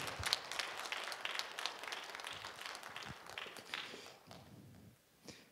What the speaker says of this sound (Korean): 큰 박수해 주십시오